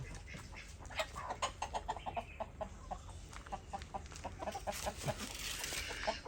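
Chickens clucking in quick repeated bursts nearby, a busy scattered chorus against steady outdoor background noise.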